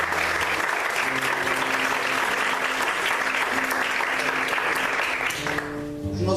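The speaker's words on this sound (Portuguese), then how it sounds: "Você pode aplaudir o Senhor nessa noite?" A church congregation applauds steadily with dense, sustained clapping that fills the space, fading slightly near the end as a few tones sound.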